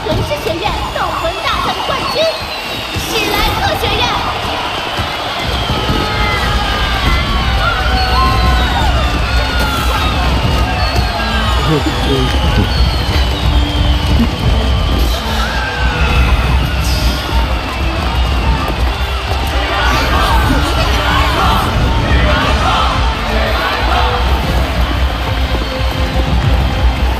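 An animated arena crowd at a soul master academy tournament cheers and applauds the champions in a dense, sustained roar lasting nearly half a minute, with voices mixed into the din.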